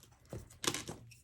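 Paper trimmed for a planner with a dull blade against a metal ruler: quiet, close scraping and crinkling strokes in two or three brief bursts over a second.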